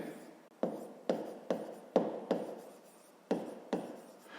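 Pen or pencil writing by hand on paper, working a 5th-grade maths exercise: a close series of about eight short scratchy strokes in an uneven rhythm, each a quick burst that fades, with no talk.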